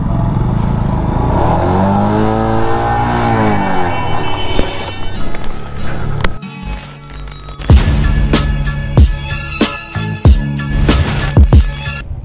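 A car drives on a mountain road trip, engine revving and shifting with rising and falling tones, then an engine note with clattering bumps and knocks, close and loud, without talk.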